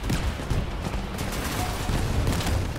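Rapid gunfire in a military video game, dense bursts of shots and booms rolling continuously at a steady, loud level with no speech over them.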